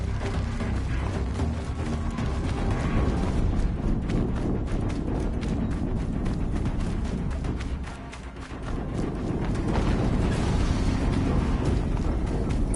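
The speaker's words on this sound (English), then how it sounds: "An explosion." Loud, sustained roaring crackle of an explosion in a PS4 game, dense debris-like clatter throughout with a brief dip near the end before the roar swells again.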